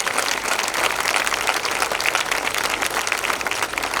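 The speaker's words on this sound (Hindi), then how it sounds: "एक बार तालियां बजा दीजिएगा।" Sustained, dense applause from a large audience at a live Hindi poetry event in Bengaluru, steady and loud throughout with no pause or talk.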